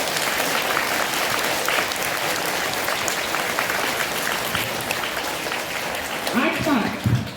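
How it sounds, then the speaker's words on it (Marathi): Loud, sustained applause from an audience welcoming three guests at a school Women's Day event in Nashik fills the hall without a break, with a few voices rising near the end. "आता ह्या तिघांचंही पुन्हा एकदा जोरदार टाळ्या वाजवून आपण स्वागत करू."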